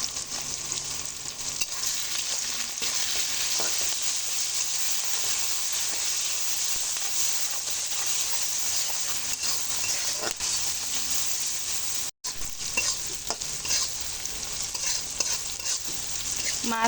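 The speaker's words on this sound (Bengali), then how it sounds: "মাছ মশলা আলু খুব ভালো করে ভাজা হয়ে গেছে" Fish, spices and potatoes fry in a pan with a dense, constant hissing sizzle, while a utensil stirs and scrapes through them with a brief dropout midway.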